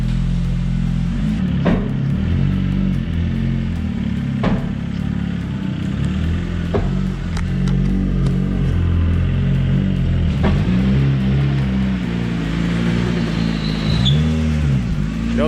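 A Honda Civic engine, on a budget auction build, revs hard and steadily through a burnout, a loud continuous roar with rises and dips in pitch throughout, with no talk over it.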